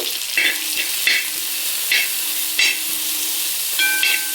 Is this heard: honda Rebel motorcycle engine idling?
no